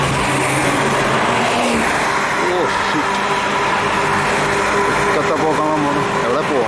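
Sports cars passing on a road in Kerala toward Aluva, a steady loud engine roar and rising revs filling the whole stretch, heard close from a roadside or moving vehicle.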